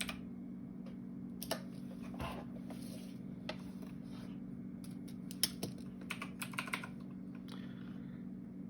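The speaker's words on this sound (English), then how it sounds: "Going to type it in real quick." Quick, light keystrokes on a computer keyboard during a math lesson, with short irregular bursts of clicking over a steady low hum, fairly faint and close with no talking.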